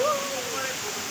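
A small decorative waterfall in Machiya Biological Park, Jodhpur, gives a brief, steady rushing hiss of falling water at moderate loudness.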